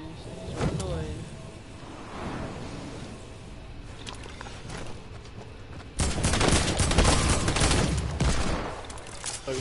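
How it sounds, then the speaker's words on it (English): Pump shotgun blasts in a video game, sharp loud bursts of gunfire with a dense volley toward the end, mixed with game sounds and some faint talking. "he just blasts me with a pump"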